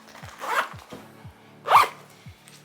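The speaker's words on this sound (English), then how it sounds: "and 2 zippers, you zip it up" A carry-on suitcase zipper is pulled closed in two quick, close rasping strokes with a pause between them, over a low rhythmic background pattern.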